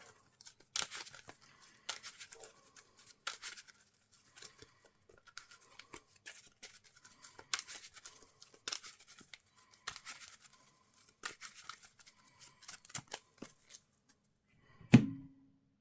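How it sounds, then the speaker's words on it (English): Playing cards from a Marvel card game being shuffled into a deck, quiet close bursts of riffling and papery flicks repeating irregularly, ending in one louder thump. "We also shuffle these into the encounter deck."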